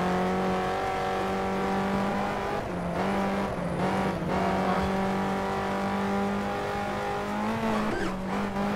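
A BMW M6 race car in the rFactor racing game holds a loud, steady engine drone that shifts pitch through gear changes, with brief tire squeal and skidding layered throughout.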